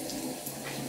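Running water splashes steadily as a face is washed with cold water during an evening skincare routine, a close, continuous wash with no talking.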